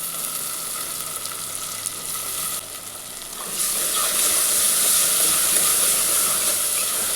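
Green turkey berries sauté with onion and tomato in a pan, giving a loud, close, continuous sizzle and hiss that swells partway through as they are stirred, with no voices.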